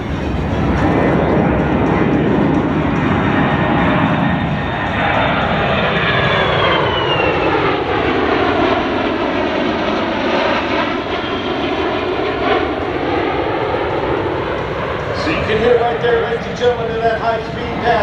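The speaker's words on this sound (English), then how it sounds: "From the left, the C-17." A Boeing C-17 military cargo jet makes a high-speed flyby at the Wings Over Houston 2022 air show, a loud sustained roar with a sweeping pitch shift as it passes, while an announcer talks over it.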